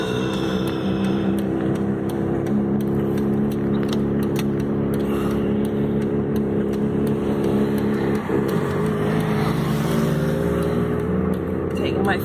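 A car engine labours up a small hill with the pedal floored, holding a loud, steady droning hum with a slight waver and no pause throughout.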